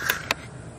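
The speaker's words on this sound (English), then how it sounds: "It's a crow right there. Making all that damn noise." A crow caws twice outdoors, two short, harsh calls in quick succession, fairly close and clear over low background noise.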